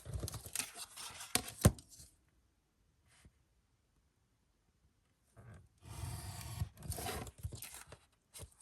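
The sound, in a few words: cutting out paper with scissors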